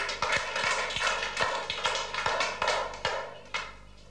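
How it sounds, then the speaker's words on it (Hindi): First-grade children in a classroom clap together in a steady rhythm of sharp, fairly quiet claps spaced evenly apart over a low background hum. "तालियां बजाओ तो।"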